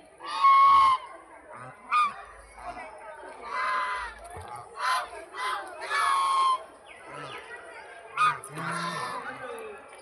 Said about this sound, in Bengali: সেই পুকুরে কত রকম হাঁস, রাজহাঁস, বড় বড় রাজহাঁস